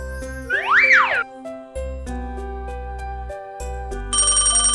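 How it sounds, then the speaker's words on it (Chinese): Cartoon telephone ringtone: a bright repeating electronic jingle over a bouncy music score, with a rising-and-falling boing-like chime near the start and a louder ring burst toward the end. "哦，电话铃又响了。"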